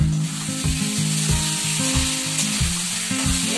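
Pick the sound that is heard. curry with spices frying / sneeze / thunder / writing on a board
curry with spices frying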